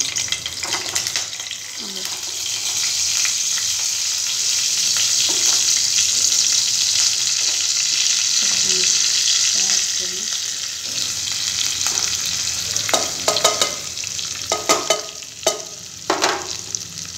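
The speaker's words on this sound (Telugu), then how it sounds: "ఆయిల్ అయితే బాగానే హీట్ అయిందండి. ఇప్పుడు పచ్చిమిర్చి వేసుకుందాం." Green chillies fry in hot oil for paneer fried rice, a loud, steady sizzle that swells in the middle, then gives way to clinks and stirring clatter near the end.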